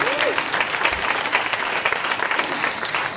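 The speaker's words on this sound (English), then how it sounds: "A big round of applause for all our presenters." Warm, full applause from the audience at a Nerd Night talk evening, dense steady clapping that carries on at an even level, with a faint voice briefly audible at the start.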